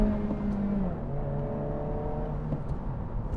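A manual car's engine drones steadily while driving, its pitch stepping down around each downshift, first to fifth and then to fourth gear, with a continuous close cabin rumble and no voices.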